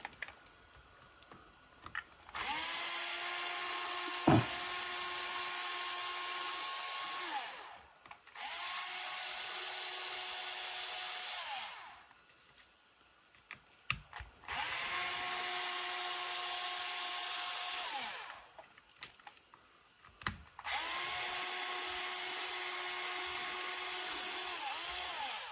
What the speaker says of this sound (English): Let's get this drill going.